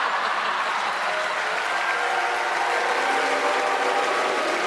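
Applause breaks out from an audience at a comedy gala, a continuous, loud wash of clapping that holds evenly from start to finish, with no talking over it.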